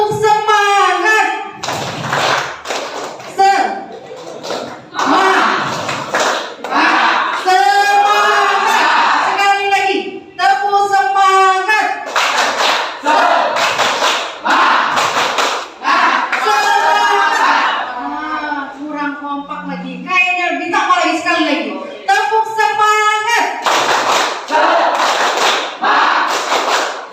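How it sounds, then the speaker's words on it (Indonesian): Students in a class stand and play tepuk semangat, a rhythmic group clapping game, with loud sharp claps mixed into energetic shouted group chanting, repeating in bursts across the whole stretch. "Tepuk semangat."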